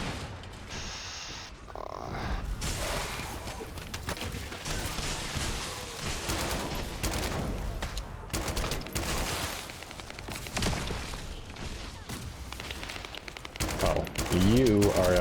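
Gunfire in the video game The First Descendant, with rapid automatic bursts and booming shots kept loud and dense throughout, and a voice talking over the action.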